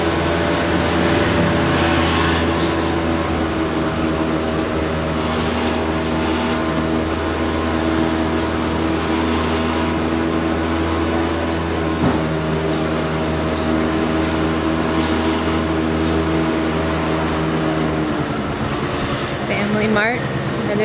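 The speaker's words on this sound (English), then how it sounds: "Woo, all the scooters." Motor scooters on a small side street near a breakfast corner; a continuous, loud hum of small engines idling and passing nearby, with a busier moment toward the end.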